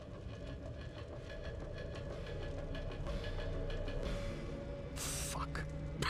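A metro train rolls past in Condemned 2, a steady rumbling rail clatter with rhythmic wheel clicks that holds for several seconds and swells slightly near the end, under faint game sounds.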